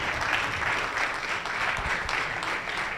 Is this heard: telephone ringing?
no